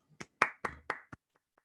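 A handful of distinct hand claps during a virtual celebration, about five sharp, close claps in an uneven rhythm followed by two faint softer ones, with near silence in between.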